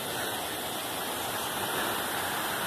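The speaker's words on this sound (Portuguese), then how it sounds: "aqui o barulho da cachoeira" A steady, dense roar of a waterfall on a trail at Tajuvas, Morrinhos do Sul, Brazil, constant and unbroken, with no voices over it.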